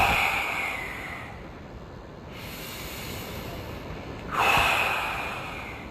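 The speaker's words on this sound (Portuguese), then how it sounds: "Você pode, inclusive, fazer o exercício da respiração durante 10 segundos" Deep breaths drawn in and pushed out during a breathing exercise, two strong airy breaths near the start and after four seconds with a quieter hiss between, close and clear with no talking.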